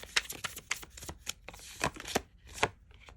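Tarot cards being shuffled by hand, a run of crisp riffling bursts and sharp slaps at an uneven rhythm, close and clear, with no talk over it.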